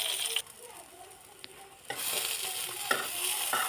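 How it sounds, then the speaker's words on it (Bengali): Brinjal pieces frying in a little oil in a pan, a steady sizzle broken by a few scraping stirs and brief clinks, close and fairly quiet. "বন্ধুরা, আমার বেগুন ভাজি হচ্ছে।"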